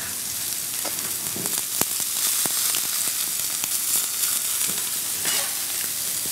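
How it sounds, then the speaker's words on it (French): Meat searing in a hot frying pan in a restaurant kitchen, a loud, steady sizzle with scattered crackles and pops, close up and continuous. "on sent que la poêle, elle chante, comme ils disent"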